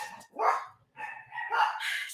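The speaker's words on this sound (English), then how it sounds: "The dogs are trying to go there crazy." Several excited dogs bark at home as if someone is at the door: a sharp close bark, a brief pause, then a longer run of loud yapping barks.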